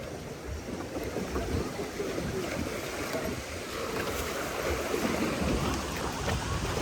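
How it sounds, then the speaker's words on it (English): Rushing water and splashing from a boat ride at Busch Gardens Tampa Bay, a continuous broadband wash of spray and churning water, loud and close with no pauses. "Little splash."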